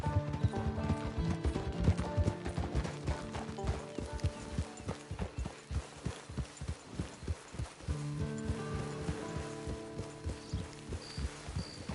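Horse hooves clip-clopping in Red Dead Redemption 2, a steady walking rhythm of close, distinct knocks over a bed of game music, with a short snort or whinny partway through.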